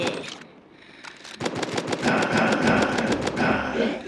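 Rapid gunfire in the Roblox game Zombie Hunter, a brief burst, a short pause, then a long, loud stream of machine-gun shots in quick, even rhythm.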